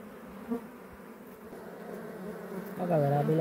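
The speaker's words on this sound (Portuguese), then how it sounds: "Isso aí tudo é a abelha que tá chegando do mato." Wild bees arriving at a nest tucked in a rock crevice in the bush, a close, steady buzzing drone that rises to a louder, more tonal hum at the end.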